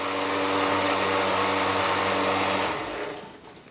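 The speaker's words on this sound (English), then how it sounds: "A little noisemaker by pushing down this tab against that little hammer." A vintage Marx toy noisemaker buzzes as its tab is pushed against a small hammer, giving a loud, steady mechanical rattle that holds for nearly three seconds and then cuts off.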